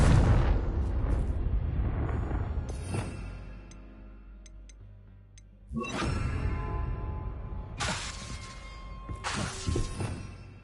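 Confringo spell blasts in Hogwarts Legacy land as sharp bursting explosions with crackling, shattering debris. One hits at the start and two more follow later, with quiet ticking gaps between them.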